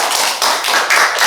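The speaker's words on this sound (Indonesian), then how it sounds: "Oke, diberi aplaus dulu temannya." Classmates in a classroom clap briefly for two students, a short burst of close, dense handclaps. No talking.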